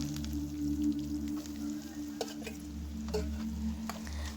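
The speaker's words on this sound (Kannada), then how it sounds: "ಬೇಳೆ ಸಾಸಿವೆ ಇಂಗು ಕರಿಬೇವು ಸೊಪ್ಪು ಹಾಕಿ ಒಗ್ಗರಣೆ ಕೊಡಿ" A tempering of lentils, mustard seeds, asafoetida and curry leaves sizzles in hot oil with a low, steady hiss and occasional small crackles and pops, heard close over a constant low background hum.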